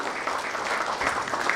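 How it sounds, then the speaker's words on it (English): A crowd at a medical networking event applauds, a steady dense patter of clapping hands held at even loudness throughout, with no voices over it. "Can we please have a huge round of applause for sir?"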